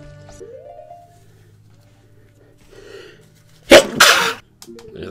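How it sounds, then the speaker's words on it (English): A single loud human sneeze erupts suddenly after quiet game background sounds, a sharp burst followed by a brief trailing exhale, close to the microphone. "And I just had a sneeze there."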